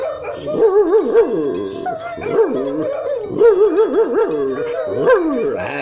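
A person imitates a dog barking, repeating loud, gruff woofs and yelps in quick rhythmic bursts, close to the listener and without other talk.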